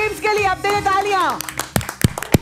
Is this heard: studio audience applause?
yes